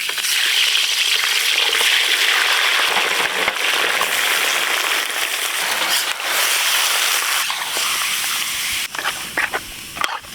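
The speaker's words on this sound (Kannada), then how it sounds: "ಬನ್ನಿ ಇವಾಗ ತುಪ್ಪದಲ್ಲಿ ಬಾಡ್ನ ಬೇಯಿಸ್ಕೊಬಿಡೋಣ" Fresh pork sizzles and crackles loudly in hot cow ghee, a dense continuous frying hiss with scattered pops and stirring scrapes, easing slightly toward the end; no speech.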